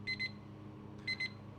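A timer alarm in an X-Plane home cockpit gives two quick pairs of electronic beeps, about a second apart, over a low steady hum of cockpit noise.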